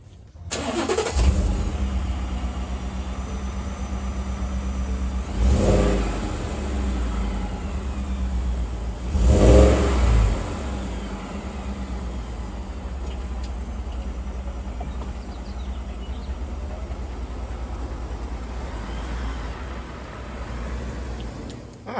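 A 2019 Ford F-150 5.0 Coyote V8 with factory exhaust cranks and fires up on a cold start, revs a couple of times, then settles into a loud, steady rumbling idle up close.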